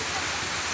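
Heavy rain pours steadily during Typhoon Crising in the Philippines, a dense, even roar of water with no letup across the short moment.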